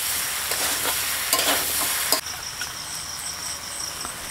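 Taro and fish curry masala sizzling and frying in a pan while it is stirred, a steady close hiss with scraping strokes of the spoon, which quiet down midway as the sizzle settles.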